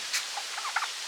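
Chickens and roosters, including a white rooster, giving a few soft brief clucks and squawky calls over a faint hissing background.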